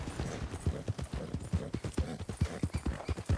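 A horse's hooves clip-clop in Red Dead Redemption 2, a quick, even gallop of sharp thuds that stays close and clear for the whole stretch, with no talk over it.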